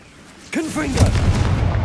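A Confringo fire blast spell cast in Hogwarts Legacy bursts in with a sudden whooshing boom, followed by sweeping tonal swirls and a rumbling low tail that persists to the end; a voice speaks at the onset.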